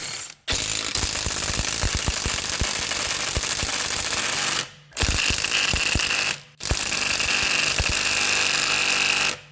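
An impact wrench rattles loudly and close in three long hammering bursts, separated by short pauses, hammering off 17 mm nuts on a 2010 Volkswagen Jetta TDI.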